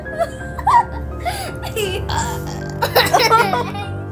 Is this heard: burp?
yes